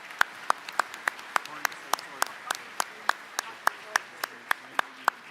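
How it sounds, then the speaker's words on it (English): Audience applause at a live-streamed government event as a provincial premier and cabinet are welcomed, sparse separate claps in a loose, fairly even rhythm, moderately close, with no voices. "Can we give them a round of applause, please?"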